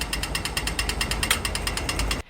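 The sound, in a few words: pedestrian crossing buzzer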